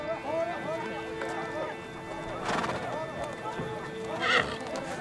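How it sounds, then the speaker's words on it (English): Horses neigh and whinny with rapid hoofbeats running underneath during a Naadam horse race in Xinjiang, a steady outdoor bustle throughout and a louder whinny rising near the end. "Horse racing at the Nadam involves several races over various distances."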